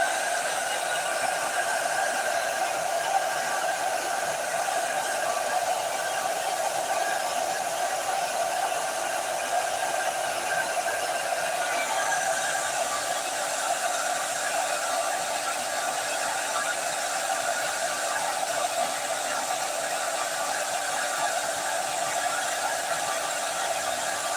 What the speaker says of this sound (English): All this is a hair dryer too. That's all it is, hair dryer.